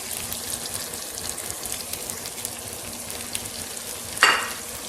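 Eggs and boiled potatoes fry in a pan and are stirred briskly, with a steady close sizzle and scraping strokes throughout and a sharper clatter near the end.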